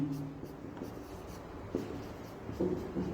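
Marker or chalk strokes writing line MN on a classroom board during a Class 9 lines-and-angles maths lesson, short scratchy bursts close by with a faint voice in the background.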